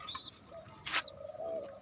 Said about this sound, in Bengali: এই হলো আমার কবুতর